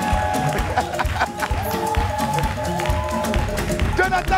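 A live audience claps and cheers for a gospel musician, with dense, rhythmic clapping and crowd noise throughout, while voices and music-like tones carry over the top.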